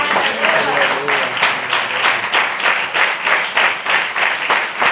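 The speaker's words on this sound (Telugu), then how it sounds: "చప్పట్లు కొట్టి" A church congregation claps in steady rhythmic unison during praise and prayer, bursts landing in an even beat close by, with voices talking over the clapping.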